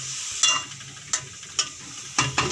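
Radish curry is stirred in a pan. Several separate scraping strokes of a spoon against the pan come at uneven intervals over a soft, low sizzle, with no talking.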